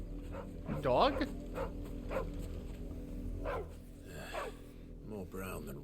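Dog barks and whimpers in the video game Final Fantasy XVI, a few short yelps and whines spread across the moment, mixed with background game music and ambience, fairly close.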